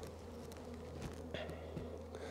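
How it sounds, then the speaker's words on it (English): Honeybees buzz steadily around an open hive during the season's first inspection, a close, continuous drone with faint clicks and handling noises. "I've got a bee emerging here"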